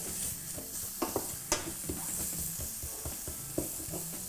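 Spices sizzle steadily in hot oil for a chicken and peach curry while a utensil stirs through them, adding sharp clicks and scrapes over the continuous frying hiss, with no voices.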